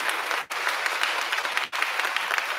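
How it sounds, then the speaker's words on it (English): Audience applause for a school board at a middle school graduation ceremony, a steady wash of many hands clapping for under three seconds, with two brief dips where the clapping thins before surging again. "Round of applause for the board."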